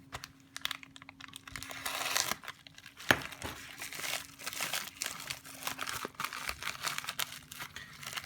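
Plastic packaging crinkling and tearing as a package holding an SMD battery holder is opened, close and continuous with rustles and a sharp snap partway through, no talking.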